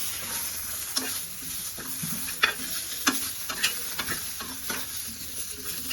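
Fresh grated coconut fries in a pan for chutney, a steady close sizzle broken by repeated scraping taps of a stirring spoon.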